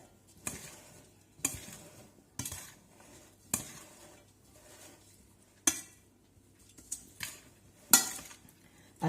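A utensil scrapes and clinks through a summer salad in a bowl, about one stroke per second, each sharp swish fading before the next.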